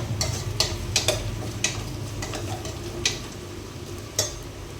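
Coconut masala paste fries in a pan while a spoon stirs and scrapes it, giving irregular metallic clicks and taps over a soft steady sizzle, close and fairly quiet with no talking.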